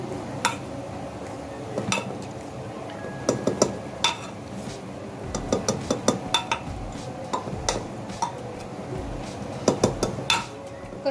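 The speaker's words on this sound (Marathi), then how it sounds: "ह्या भाज्या मी आता पूर्ण मॅश करून घेते" Cooked vegetables, beetroot among them, being mashed in a hot pan for homemade pav bhaji, giving repeated metal-on-pan knocks and clinks in uneven bursts with a steady sizzle underneath.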